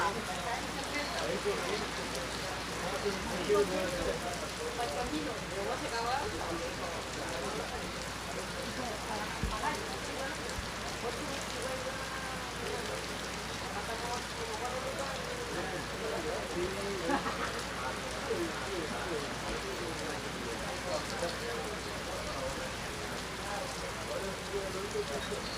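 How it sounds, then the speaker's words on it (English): Heavy rain pours steadily on an outdoor FootGolf course in Acapulco, a dense continuous hiss that stays loud and unbroken throughout, with faint voices underneath. "But we've had 2 weeks of no rain at all. And it seems to have all come today."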